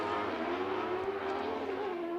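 Weller Racing SR1 UTV race car engines howl through a turn on a short course track, a sustained tonal engine note that bends gently up and down, fairly distant and steady.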